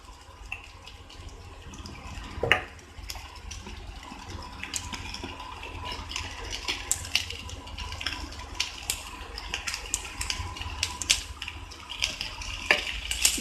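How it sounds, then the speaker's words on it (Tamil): Continuous clatter and sizzle of cabbage and carrot being sautéed in a pan, with scraping utensil clinks throughout and no talking. "லேசாக வதக்கிக்கோங்க."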